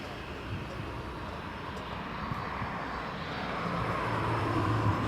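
A Pilatus aircraft landing at Leeds Bradford Airport, its steady engine drone holding at moderate distance and slowly swelling louder over a broad rumbling wash.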